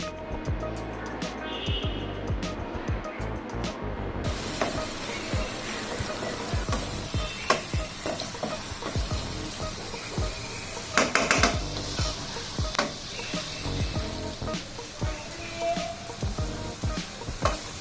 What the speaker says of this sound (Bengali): এটা তেলের মধ্যে সম্পূর্ণ ভাজা ভাজা হবে।